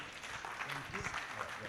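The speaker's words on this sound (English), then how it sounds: "Please put your hands together for this workaholic." Applause from a summit audience for the convener of an infrastructure finance and capital markets event, a faint, steady patter of hands over crowd murmur, with a voice speaking over it.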